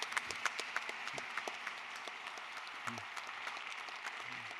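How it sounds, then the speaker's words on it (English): Audience applause for a team at an ethics session of a medical conference, fairly faint and scattered, with a few nearer claps standing out. "Can we have some applause,"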